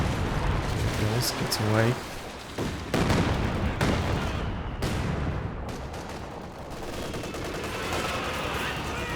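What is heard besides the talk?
Katyusha rocket artillery barrage in Company of Heroes 2 video game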